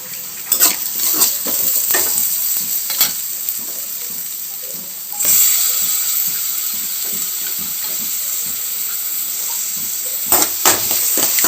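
Chopped tomatoes sautéing for a Sunday-special liver gravy, a steady sizzling hiss in the pan broken by occasional scrapes and stirring clatters, near and moderately loud.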